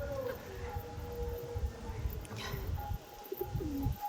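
Several pigeons coo in low, throaty, overlapping calls, repeating unevenly over a soft background rumble, with about ten to twelve newly hatched chicks present.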